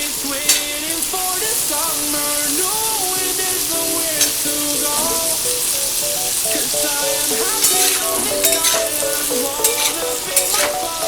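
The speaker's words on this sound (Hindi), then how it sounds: "और इसी तेल में अब आलू डाल के इसको भी थोड़ा सा गोल्डन ब्राउन कर लें।" Potatoes fry in hot oil for a halwai-style Bihari aloo gobi, giving a loud, steady sizzle with occasional stirring clatter. Faint melodic background music plays throughout.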